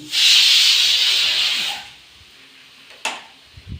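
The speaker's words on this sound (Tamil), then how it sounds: "சாப்பாடு விசில் வந்துருச்சு" A pressure cooker whistle lets off steam while food cooks on the stove: a loud, steady, close hiss that fades away after a couple of seconds, followed by a brief sharp click and soft knocks.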